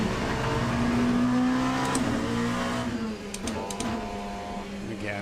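Race car engine in a sim racing game revs steadily while tires are warmed up, a sustained mid-pitched drone with brief shifts, at moderate loudness.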